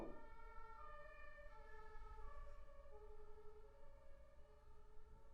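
An ambulance siren passing by a house, a faint, distant wail that rises and falls steadily and holds for the whole stretch, with no voices over it.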